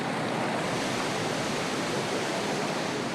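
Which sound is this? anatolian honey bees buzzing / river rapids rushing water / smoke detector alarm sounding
river rapids rushing water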